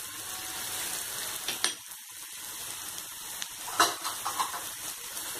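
Tomatoes with green chillies going into a pan for boondi sabzi, frying with a soft continuous sizzle, broken by a few close spoon scrapes and stirring clinks against the pan, with no talk.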